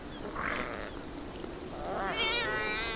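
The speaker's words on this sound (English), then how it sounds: "So the cats are just like hissing at me now." A cat in the video game Beyond Eyes gives a couple of close meows, the second rising and more drawn out, over a faint ambient background.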